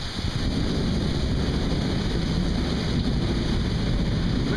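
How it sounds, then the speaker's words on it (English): Strong storm wind roars steadily during a coastal storm, a dense, constant rush buffeting the microphone with no break. "Wind has shifted."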